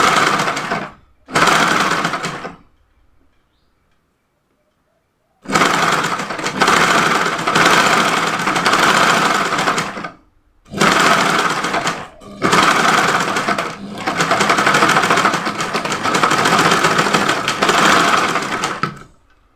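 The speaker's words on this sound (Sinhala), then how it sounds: "ඒකෙදිත් මේ මැහුම් වාසි යටට තියලා මහ ගන්න ඕනේ." Sewing machine stitching a smocked off-shoulder dress, running in several long loud bursts separated by pauses, including one near-silent gap of a few seconds.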